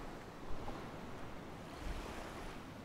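Morning waves at Poipu Beach Park on Kauai, Hawaii, a continuous broad wash of surf with wind noise and no voices.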